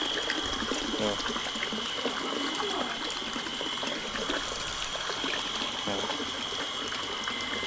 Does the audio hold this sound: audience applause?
no